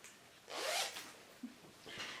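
A quiet zipper on a bag is pulled in a quick rasping stroke, then a softer second pull a moment later, close and isolated.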